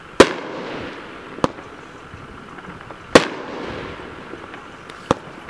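A Brothers 30-shot firework cake called Sweet Spot fires sharp, loud bursts at irregular intervals, four distinct bangs with crackling decay and hiss between them, and no talking.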